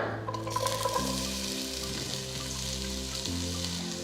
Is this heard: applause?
no